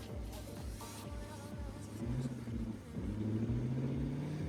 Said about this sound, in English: Little burnout here, a little burnout action.